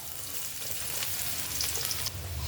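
Garlic frying in a small amount of cooking oil in a pan for pancit bihon and canton, a steady close sizzle that runs unbroken throughout with no talking.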